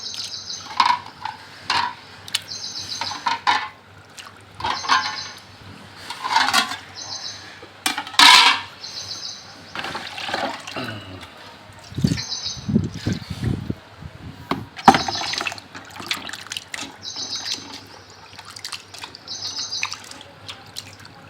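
Raw chicken washed again in water, with tap water running, splashes and dripping alongside clinks of a pot and utensils in a kitchen, steady and close throughout.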